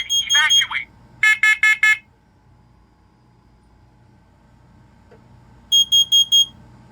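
A smoke and carbon monoxide alarm system under test sounds sharp, shrill electronic beeps in tight bursts of three to four, with quiet gaps and a faint background hum between them.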